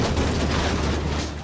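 An explosion sound effect plays as a loud, dense roar with a rumbling, crackling texture that sustains for about a second and a half before starting to fade, heard alone.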